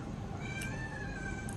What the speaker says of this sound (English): Here's my little kitty, Oliver